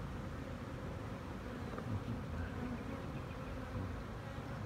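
Honeybees swarm in a pine tree, a dense, even buzz that holds faint and steady throughout with no voices.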